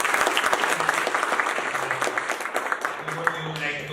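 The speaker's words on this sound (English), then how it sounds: "let's give again a big round of applause" Workshop audience applauding for a guest speaker, a continuous burst of many hands clapping in a small room, with voices talking over it toward the end.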